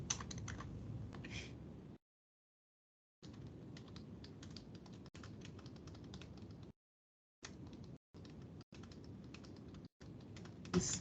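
Typing on a computer keyboard while writing a short note in a word processor, a steady close run of key clicks broken by several pauses, with a louder flurry at the very end and no talk.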